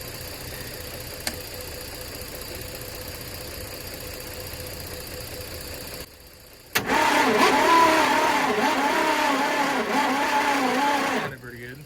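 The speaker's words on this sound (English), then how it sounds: "I think it's actually trying to fire off a couple of times there again." A 1966 Ford engine cranks with a steady churning drone in the second half, nearly catching a couple of times, after a quieter stretch of background noise.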